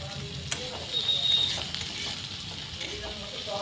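Spiced tomato masala fries in a pan with a soft, steady sizzle and occasional stirring scrapes, fairly quiet with a voice speaking over it.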